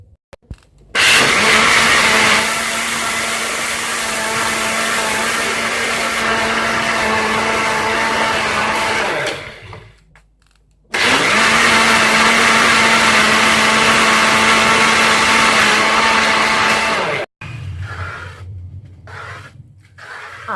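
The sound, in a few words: blender grinding sugar and milk for kheer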